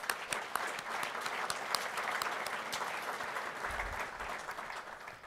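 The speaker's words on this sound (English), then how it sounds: "Let's give them a round of applause" A room of attendees at a manufacturing address in 2019 breaks into a round of applause honoring a Lone Star College team, dense and sustained clapping throughout at steady, fairly loud level.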